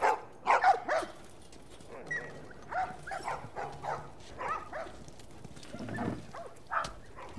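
Dogs in The Last of Us barking and whimpering in short bursts, several yelps near the start and scattered fainter whines and barks through the rest, with faint background noise.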